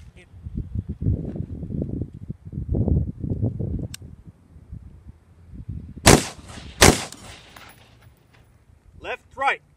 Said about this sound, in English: I'm gonna go for this area, one shot here and one shot here